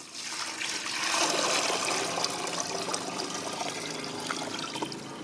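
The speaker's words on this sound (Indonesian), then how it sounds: "Kemudian tuangkan air." Water pours steadily into a container of rice being prepared for homemade compost, a close continuous splashing trickle that starts strong and gradually softens, with no voices.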